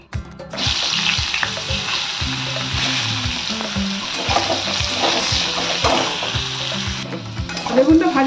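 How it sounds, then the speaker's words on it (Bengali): Eggplant pieces sizzle steadily in hot oil in a kadai, a continuous bright frying hiss with occasional stirring clinks and knocks, close and loud throughout. "এটা আমি বেগুনগুলো ভেজে নেব।"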